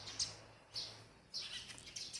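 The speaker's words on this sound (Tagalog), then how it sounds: "Ayan, dalawang ibon. Maingay." Quiet outdoor ambience with several short, bright bird chirps from at least two birds, calling intermittently at moderate distance.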